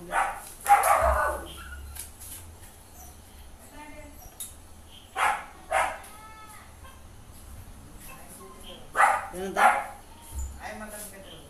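A dog barks in short bursts, a few times spread over several seconds, fairly close, with people talking in between.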